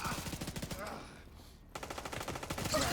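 Rapid gunfire in a video game, a steady rhythm of loud repeated shots that briefly drops to near silence before resuming, close and sharp.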